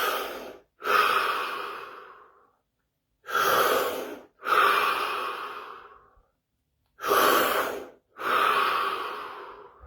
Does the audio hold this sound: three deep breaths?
yes